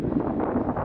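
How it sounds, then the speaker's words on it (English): Strong gusty wind on a winter hillside buffets the microphone with a rough, roaring rush that surges and dips over a brief moment. "It's still very windy."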